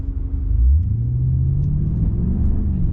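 Engine of a 2021 Maserati Ghibli Trofeo rumbling steadily while driving, a loud, close low drone that swells slightly as it pulls, with no talking.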